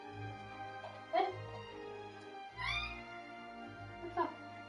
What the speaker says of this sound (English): Hold on, I need to check on the cat.